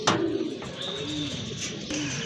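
Iranian Persian pigeons, just taken out of their cage, flap in brief bursts of wing noise close by, mixed with soft cooing throughout.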